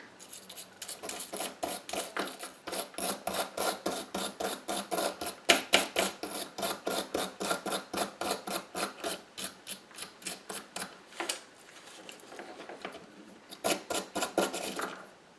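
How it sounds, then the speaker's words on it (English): A small wire brush scrubs stripped paint off the metal wheels of a Ford Zephyr Dinky toy, fast rhythmic bristly rasping strokes, close and continuous, with one brief pause near the end. "I'll just remove the paint with this small wire brush"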